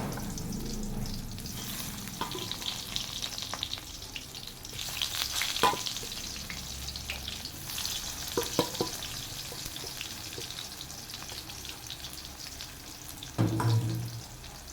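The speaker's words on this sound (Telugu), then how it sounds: "కాకరకాయలు ఇందులో వేసేయాలండి." Bitter gourd frying in oil in a pan, a steady, continuous sizzle heard up close throughout, with occasional stirring scrapes and small clatters, and no talking.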